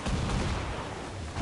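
Ship cannons firing in Assassin's Creed IV Black Flag, a dense, sustained roar of blasts and rumbling with no clear individual shots, loud and close.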